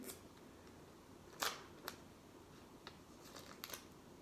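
Scissors cutting paper strips for a hand-crank winch build: a few quiet, sharp snips spaced apart against a faint, still background.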